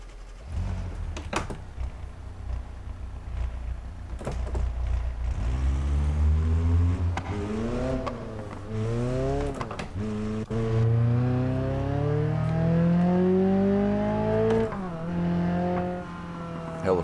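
Car engine in the BeamNG driving game, revving up and down through repeated rising pitch sweeps, loud and close, with short gaps between pulls and a brief click or two early on.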